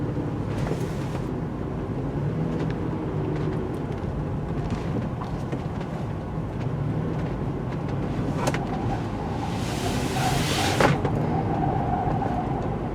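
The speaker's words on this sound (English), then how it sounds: "Lots of wheel spinning noise, but pretty stable." A 2019 Toyota 4Runner TRD Pro corners hard, a continuous loud low rumble of tires and engine heard from inside the cabin, with a rising scrubbing hiss near the end.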